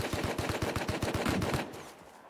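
A fast, evenly spaced burst of about a dozen gunshots in a video game firefight, loud and close, ending in a brief fading tail.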